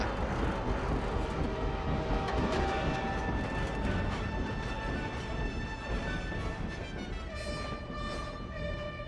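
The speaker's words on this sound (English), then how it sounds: "be warned, for there is an active locomotive in the area" An active locomotive in Half-Life 2 rumbles steadily and loudly with a broad mechanical roar and sustained metallic tonal whine, continuing without pause throughout with no talking.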